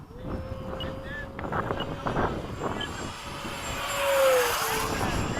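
A Freewing 90mm F-15 RC model jet flies in formation at a windy airfield, its turbine whine rising and falling in pitch as it dives and climbs over steady wind noise, growing louder toward the end.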